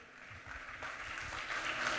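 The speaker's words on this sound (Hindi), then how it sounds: "तालियों की आवाज जोरदार साथियों।" Audience applause at a live event in Dubai, a steady wash of clapping that swells slightly toward the end, moderately distant and without talk.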